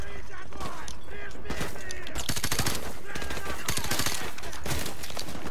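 Dense rapid gunfire in Call of Duty Modern Warfare Remastered, loud sustained bursts of automatic fire with overlapping shots filling the whole stretch, with a player's voice talking over it.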